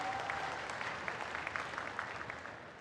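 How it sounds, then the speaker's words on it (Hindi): A crowd at a Tribal Mahasabha gathering gives Prime Minister Modi a warm round of applause, with many hands clapping in a steady, lively burst that tapers slightly toward the end. "जोरदार ताली बजाएं"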